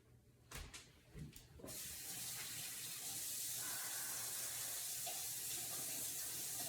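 A kitchen tap is turned on and runs steadily while hands are washed before cooking; a few clunks and knocks come first, then a continuous, close splashing rush of water. No talking.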